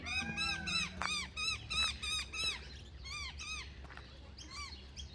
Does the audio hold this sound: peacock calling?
yes